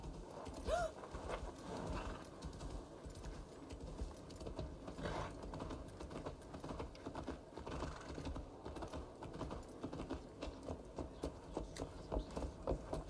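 A horse's hooves clip-clop in Assassin's Creed Valhalla, a quiet steady patter of rapid hoofbeats running continuously through a busy game soundscape.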